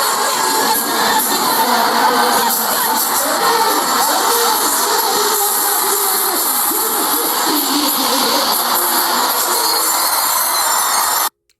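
A huge crowd of over 20,000 at an Alkaline dancehall show in Guyana roars and cheers in a steady, dense wash of noise that holds for about eleven seconds, then cuts off abruptly.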